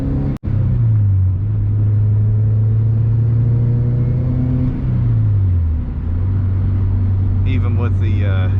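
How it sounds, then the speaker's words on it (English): A 1994 Subaru WRX engine pulls steadily with the air conditioning running, a loud continuous in-cabin drone that holds, briefly rises in pitch, then settles lower, with a short voice near the end. "Even with the air conditioning on, this vehicle pulls very well."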